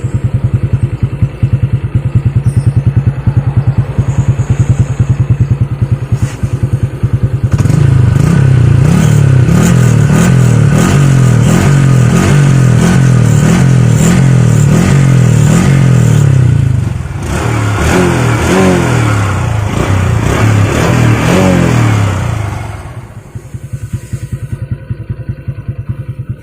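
The exhaust of a Honda Wave 125i LED motorcycle fitted with a modified aftermarket pipe idles close and loud, then is revved repeatedly in rapid throttle blips before settling back to a throbbing idle.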